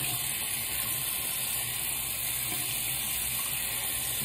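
Hot water runs steadily from a bathroom sink faucet, a constant close hiss and splash with no breaks or talk over it.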